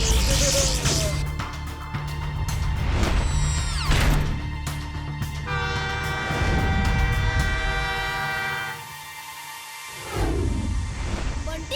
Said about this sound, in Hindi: वो देखो, ट्रेन आ रही है और तुमने ट्रैक तोड़ दिया।